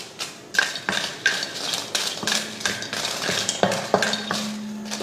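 Four dried red chilies and six or seven cashews are roasted in a kadai on the stove, with a metal spoon scraping and tapping the pan in a steady rhythm of sharp clinks over a faint sizzle.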